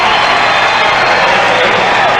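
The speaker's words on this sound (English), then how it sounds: "Crowd is really into it." A crowd at a 1992 Nike International tennis exhibition in Korea between Andre Agassi and John McEnroe roars and cheers in a dense, loud, continuous wash of noise, mixed with some voices.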